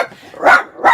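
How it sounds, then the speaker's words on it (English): Dogs bark indoors, two sharp, loud barks close by with a short gap between them. "I think my dogs agree."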